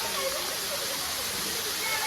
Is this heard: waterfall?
yes